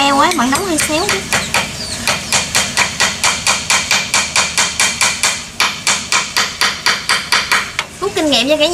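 Hammer driving nails into a homemade fence, a fast steady run of sharp close knocks repeating about three times a second, with a voice speaking briefly at the start and end.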